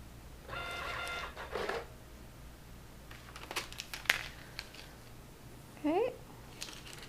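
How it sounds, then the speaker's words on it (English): A Citizen CT-S851 receipt printer prints in short bursts of buzzing thermal-head chatter and paper feed, with clicks and a final tear-like rasp, near and moderately quiet amid a low room hum. "I'll go ahead and print a receipt for that"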